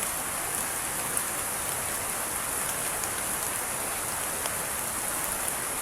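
Steady rain falls outdoors in a rural field area while someone shelters from it, an even, dense hiss of drops on surfaces with a few sharper close drips, continuous and fairly loud with no talking.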